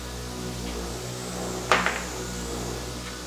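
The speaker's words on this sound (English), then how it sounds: "get a hammer and love tap on it" Two quick, light metallic taps of a hammer on the starter of a 2015 Chrysler 200, the first sharper, over a steady low hum.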